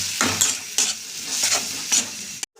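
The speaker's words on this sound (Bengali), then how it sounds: "এবার ভালো করে মশলাটাকে কষিয়ে নেব" Ground coriander, chilli and turmeric frying in oil in a pan, a loud hiss with about four regular stirring scrapes of a spoon against metal, ending in a sudden cut.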